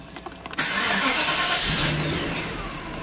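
A 1995 Mercedes-Benz S500 W140 S-Class sedan's engine starts with a brief crank, then catches and settles into a loud, steady idle close by, with no talking.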